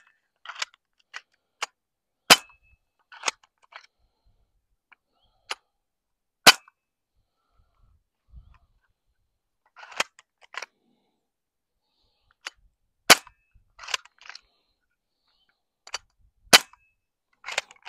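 A Crosman PSM45 BB pistol fires BBs, a scattered series of sharp, dry snapping cracks at irregular intervals, some single and some in quick clusters, close by with near silence between them.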